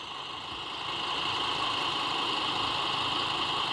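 A vehicle engine idling steadily in the Roblox game Dead Road, a constant droning hum with a faint whine layered on top, unbroken and moderately loud throughout.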